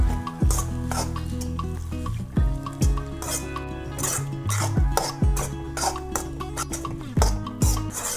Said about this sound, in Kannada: ಈಗ ಇದನ್ನು ಎಲ್ಲ ಚೆಂದಂಗೆ ಮಿಕ್ಸ್ ಮಾಡ್ಕೊಳ್ಳೋಣ ನೋಡ್ರಿ.